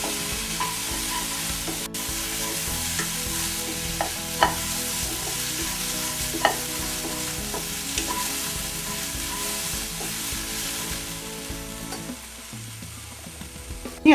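Grated coconut sizzles steadily in a hot pan, with scraping stirs and occasional soft clacks of a spoon against the pan, close and continuous before quieting at the end.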